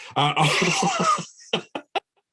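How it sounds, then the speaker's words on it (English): A harsh, raspy cough from a person with a summer cold, followed by a few short, sharp bursts, close and loud, then silence. "I have a stupid summer cold and I was coughing."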